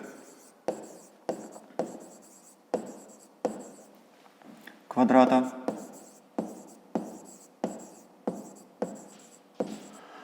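A pen or pencil writes out a math solution by hand on paper, close and quiet, with regular scratchy strokes and taps; a brief voice sounds midway.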